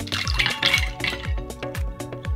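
A Barbie-themed non-alcoholic mocktail of bitters, ice and club soda pours from a cocktail shaker in a run of liquid splashes and rhythmic glugs, close and clear with no talking.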